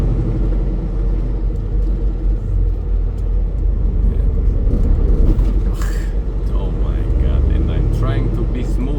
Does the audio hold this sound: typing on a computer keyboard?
no